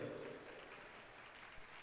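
A crowd at the Pala diocese Bible convention claps in a faint, steady patter that carries evenly for about two seconds, with no clear voices over it.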